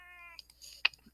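A single short cat meow rises briefly after a steady electronic tone, then quiet clicks and faint rustles follow.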